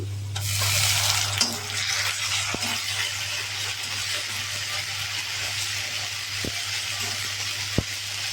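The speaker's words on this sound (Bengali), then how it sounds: "পেঁয়াজ ভাজা হয়ে গেছে, বেটে রাখা আদা রসুন দিয়ে দিচ্ছি।" Ginger-garlic paste hits fried onions in a pan for a soybean curry, giving a steady broad sizzle that runs throughout, with a couple of faint clinks of a utensil against the pan.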